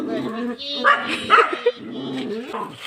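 A five-month-old female dog barks and yips a few times, close up, mixed with people talking.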